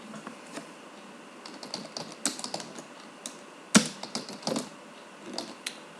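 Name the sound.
typing on a computer keyboard in MS Word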